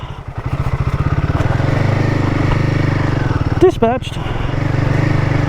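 A trail motorbike ploughs over a small log on a bush trail: a close, loud, rapidly pulsing engine, briefly revving with a clattery jolt midway. A voice speaks once briefly.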